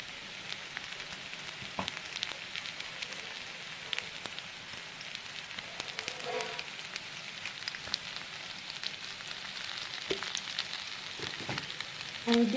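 Red chilies fry in a pan of butter and garlic, crackling and sizzling steadily throughout with small spitting pops, heard up close and without any talk.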